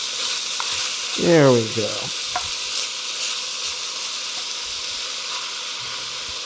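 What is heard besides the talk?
stuffed pepper filling browning in a pan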